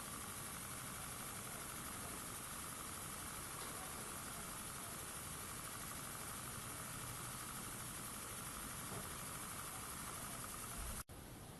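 A tiny Microcosm M65 mini V2 model steam engine running on compressed air gives a steady, faint, even hiss and whir with no clear beat, continuing unchanged until a brief cutoff at the end.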